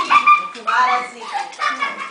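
A dog that has just jumped on someone whimpers and yips in short, high, close bursts, several cries within a couple of seconds.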